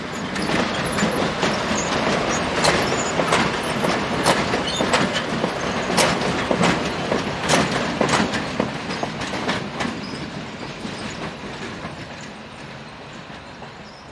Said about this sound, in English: This pair are about to back onto a northbound empty steel train.